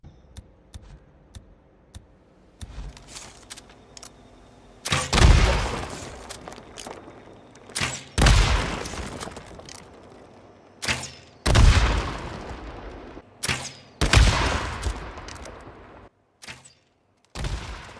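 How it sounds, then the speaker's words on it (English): Explosive crossbow bolts are fired in the video game Days Gone. Several loud, close booming blasts come at irregular intervals, each with a sharp attack and a rumbling decay, over quieter game ambience. "obviously it has a distinctive explosive sound when you shoot it"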